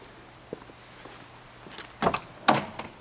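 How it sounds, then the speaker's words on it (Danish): A vehicle door slams shut twice in quick succession, sharp nearby thuds after a few faint handling clicks, with no talking. "Smækker døren her."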